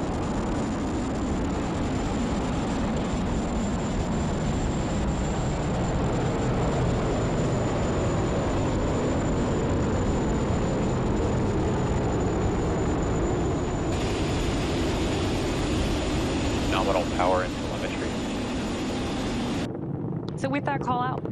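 A SpaceX Falcon 9 rocket lifts off carrying NASA's Crew 8 toward the International Space Station. Its deep, steady, crackling roar is loud and unbroken for the whole stretch.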